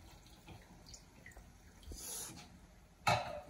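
Water poured into a soup pot while cooking fideo soup, a soft continuous splashing that swells briefly in the middle and ends with a sharper splash near the close.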